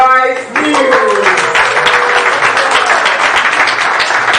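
Audience applause at an awards event, a loud sustained wash of clapping from a large crowd, steady throughout with no gaps.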